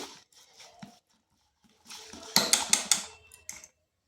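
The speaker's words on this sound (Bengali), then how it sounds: "এরপর দিচ্ছি এক বাটি গরম জল মানে হালকা গরম আর কি এরপর ভালোভাবে মিশিয়ে নিচ্ছি" Flour batter mixed with warm water in a bowl, a spoon clattering and scraping against the bowl in a quick run of sharp knocks after a quieter stretch of soft stirring sounds.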